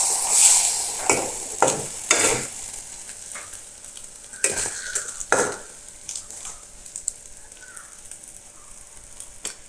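An egg frying in an oil-coated wok, its sizzle steady and close, broken by several sharp bursts of spitting and the scrape of stirring.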